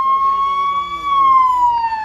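An ambulance siren wails loud and close on a blocked road toward Jammu, a steady high tone that bends slowly downward, with faint voices underneath.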